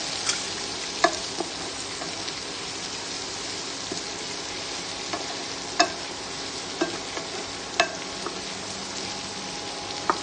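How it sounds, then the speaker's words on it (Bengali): Onions frying in a pan for a chicken curry, with a steady close sizzle throughout and occasional sharp clicks from stirring. "পেঁয়াজটাকে একটু ভালো করে ভাজবেন।"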